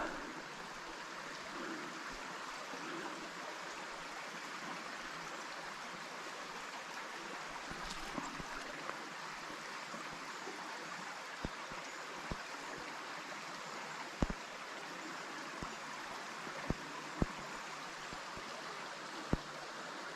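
Steady, close rush of running water from a small wild trout stream in Pennsylvania, flowing past rocks and fallen trees. It runs continuously with no voices, broken only by a few sharp clicks near the end.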